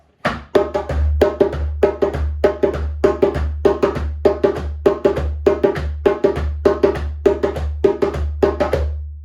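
A djembe plays a steady, repeating off-beat groove of crisp slaps and deep bass tones, close and clear with no voices.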